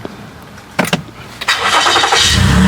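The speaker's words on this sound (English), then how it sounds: "the car has started right away" A 2019 Toyota Highlander, just fitted with a new ECU, cranks with a few short bursts and then fires up. It settles into a steady, loud idle close by, with no talking.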